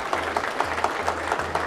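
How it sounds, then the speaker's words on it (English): Audience applause breaks out after a talk at an innovation expo, fairly faint clapping heard over a low, repeating background hum. "Give them a round of applause."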